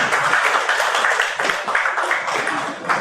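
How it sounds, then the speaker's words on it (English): An audience at an inaugural session of an implementation support mission claps warmly, a continuous swell of applause with slight surges and no clear speech. "Let's give each other and the inaugural session a huge round of applause to begin with."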